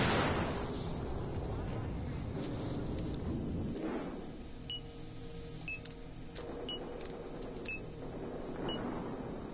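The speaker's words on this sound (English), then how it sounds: "Incendiary out!" An incendiary grenade goes off in Battlefield Hardline with a loud burst that fades into a rushing burn, followed by scattered sharp clicks and pings from the game.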